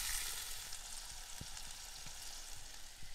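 Chicken fries in a pan inside a camper van, a soft continuous sizzle with occasional light pops and stirring, quiet and close with no talking.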